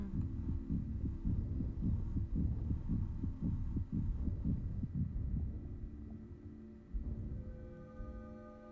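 A steady, thudding heartbeat from the video game What Remains of Edith Finch pulses at close range, dense rhythmic low beats that slow and thin out near the end, with no voices over it.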